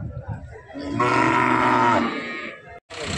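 A young bull lows with one long, loud moo at an open cattle market, close by, followed by a short clatter.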